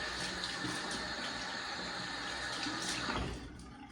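Water runs steadily from a tap to wet the face before a shave, a continuous close hiss and splash that tapers off near the end.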